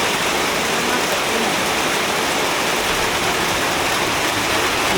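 Heavy rain drums hard and unbroken on a tin roof at a roadside market stall, a dense, loud, steady roar filling the whole stretch with no voices over it.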